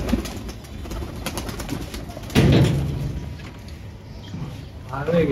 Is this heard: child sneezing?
no